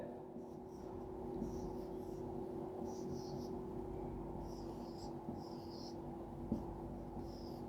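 Chalk drawing a diagram of cell structures on a board in a classroom, heard as faint, intermittent scratching strokes over a steady low room hum.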